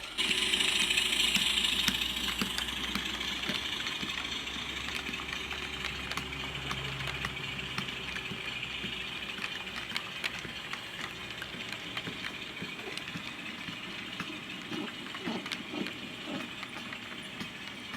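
A goods train pulls into the passing siding at Emu Flat, its engine rumbling and idling steadily with faint wagon clanks, louder at first and then settling into an even drone.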